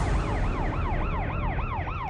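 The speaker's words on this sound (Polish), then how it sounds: "kierownik sklepu obuwniczego, John Brewer, słyszy syreny policyjne." Police sirens wailing in the Oak Cliff district of Dallas, loud repeated rising-and-falling sweeps in a steady rhythm, heard clearly on their own over low traffic rumble.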